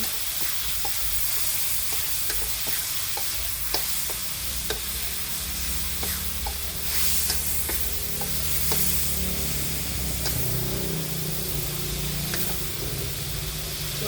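Pork stir-fried with fish sauce in a hot pan for holy basil stir-fry, a steady loud sizzle running throughout with repeated sharp scrapes and clacks of a spatula stirring against the pan.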